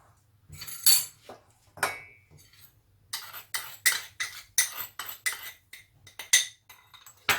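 A spoon stirring pastry cream in a bowl for an almond and apple tart, making a run of rhythmic clinks and scrapes against the bowl that speed up into steady repeated strokes, close and clear with no speech.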